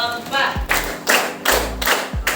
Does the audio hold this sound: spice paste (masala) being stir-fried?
no